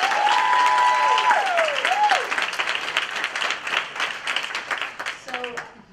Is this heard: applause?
yes